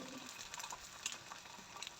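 An egg fries in melted butter inside a slice of bread, giving a faint, steady sizzle with light crackles and no talking.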